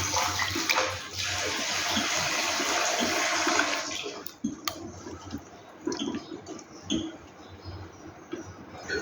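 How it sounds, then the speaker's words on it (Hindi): Full cream milk is poured into a pot of chicken malai handi, a steady liquid rush lasting about four seconds, followed by softer bubbling, clinks and scattered kitchen handling noises. "तकरीबन हाफ कप हम इसमें फुल क्रीम मिल्क शामिल करेंगे।"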